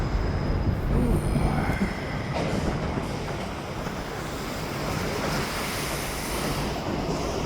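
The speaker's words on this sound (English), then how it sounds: "There's the train." A train rolls past at ground level near an overpass in a busy rail yard, giving a steady, fairly distant rumble with faint wheel squeal and no speech.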